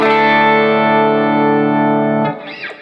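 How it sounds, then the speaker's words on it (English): Electric guitar run direct with Valhalla reverb plugin, a held distorted chord ringing loud and thick for over two seconds, then cut short into a brief reverberant tail with a faint wavering effect. "Valhalla makes great reverbs for guitar."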